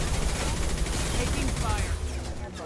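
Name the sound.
gunfire in the video game Mass Effect 2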